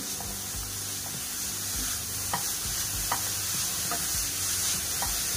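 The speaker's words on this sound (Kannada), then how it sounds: "ಆವಾಗವಾಗ ಹೀಗೆ ಬದಲಿಸ್ಕೊಳ್ತಾ ನೀವು ಕ್ಯಾರೆಟ್ನ ಹೀಗೆ ಫ್ರೈ ಮಾಡ್ಕೋಬೇಕಾಗುತ್ತೆ" Carrots frying in ghee over a low-to-medium flame, stirred now and then: a steady broad sizzle with a low hum underneath and several sharp scraping clicks of the spoon against the pan, close and even throughout.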